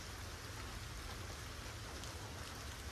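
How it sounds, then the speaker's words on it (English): Steady rain falls without a break, a dense even hiss of drops on a surface with a soft low rumble underneath, unchanging and fairly close, with no voices. "And hopefully you can drown out the sounds that are not as relaxing as the rain."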